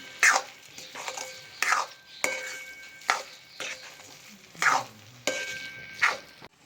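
A spoon scrapes through sugar and jaggery in a pan while making carrot barfi, slow rhythmic strokes about once a second with a soft sizzle underneath, close and fairly quiet, without speech.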